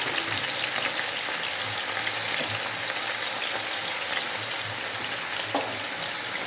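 Kangkong (water spinach) sautéing in a hot pan gives a loud, steady hiss and crackle with occasional soft knocks of stirring, close and continuous with no voices.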